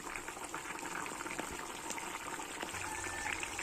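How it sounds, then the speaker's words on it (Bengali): A small fish curry (puti or chuno mach jhal) boils steadily in a pan, giving a continuous dense bubbling and fizzing that stays even and close throughout. "এইভাবে অনবরত ফুটতে থাকুক"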